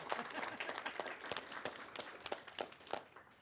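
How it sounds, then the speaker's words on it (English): Audience applause for volunteers at the closing session of an OpenStreetMap US conference, with steady scattered clapping throughout at moderate distance, rising in a few sharper bursts and no talk over it. "clap for those people as well."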